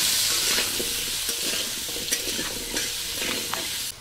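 Potato pieces fry in a pan with salt and turmeric, giving a close, crackling sizzle. Stirring strokes scrape through it at a steady rhythm, and no one speaks.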